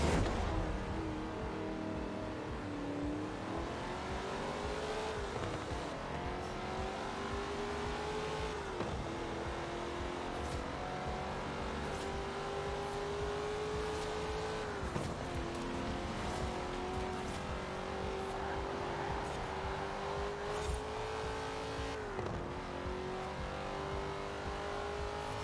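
A Corvette C8 races in Forza Horizon 4, its engine holding a steady loud drone that climbs in pitch through each gear and drops sharply at the shifts, with occasional tire squeal and no voices.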